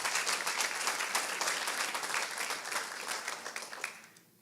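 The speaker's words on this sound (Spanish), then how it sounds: "¿Podemos dar un fuerte aplauso al Señor?" A church congregation gives a strong round of applause during a Spanish-language sermon, a broad, even wash of many hands clapping that holds steady, then fades out near the end.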